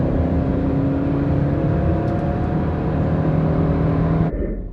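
A Ford Aspire and a Honda City accelerating in a drag race, heard as a steady, loud engine drone and road roar that cuts off sharply near the end, with no talk.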